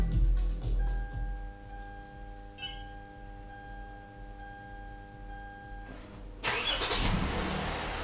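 A Subaru R2 started remotely at -23 °C: a steady electronic tone and faint cabin hum, then the engine cranks and catches with a sudden loud roar that settles into a close, even idle.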